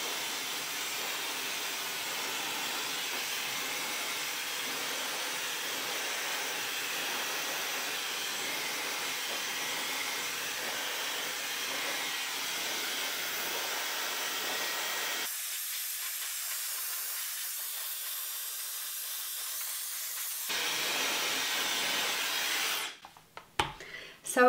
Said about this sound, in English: So let's start blow drying.